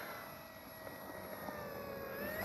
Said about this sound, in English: Going to take up the FMS 1800 millimeter Ranger.